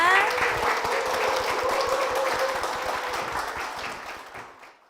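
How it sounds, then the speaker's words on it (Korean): An audience in a church applauds steadily as a guest mentor, an evangelist, is welcomed to the stage, the dense clapping sustained and then fading away, with a bit of voice at the very start. "박수 부탁드립니다."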